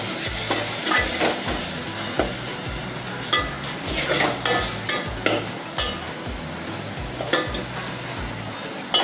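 Masala with red chilli powder being roasted in a pan for Maharashtrian puran poli, a steady sizzle and fry running throughout with repeated scraping stirs of a spoon against the pan, close and fairly loud, no talk.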